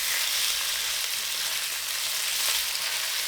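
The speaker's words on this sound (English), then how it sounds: "Add the remaining garlic and the marinated beef pieces, spreading them out. Let sear for 30 seconds." Marinated beef pieces with garlic searing in a hot pan, giving a steady, loud broadband sizzle that fills the whole moment without pause or talk.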